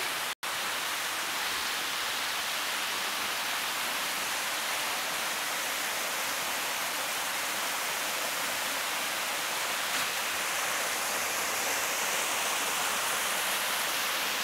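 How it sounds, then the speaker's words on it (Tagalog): Steady broadband rush of a waterfall and flowing river at a campsite, continuous and fairly loud throughout with no voices, only a brief click near the start. "May falls, may ilog."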